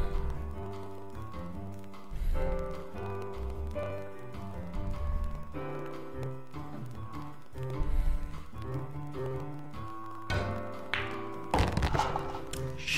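Pool balls knocked by a cue in a PS2 pool game, a series of irregular clacks and thunks over soft background music, some collisions louder near the end.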